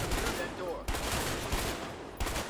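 Gunfire in the video game A Way Out: several sharp shots spaced across a couple of seconds, cracking loudly over a noisy background.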